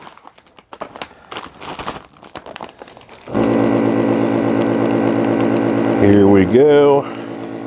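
A vacuum sealer pulls air from a bag holding a homemade MRE meal. After some crinkling of the bag and a short spoken remark, it starts with a loud steady motor drone, then its pitch shifts and rises near the end.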